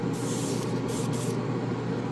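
An airbrush sprays paint in a waterfall spray booth, a steady, close, unbroken hiss lasting about two seconds.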